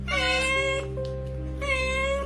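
A cat meows twice up close, two drawn-out, loud calls separated by a short pause, over a steady low hum in the room.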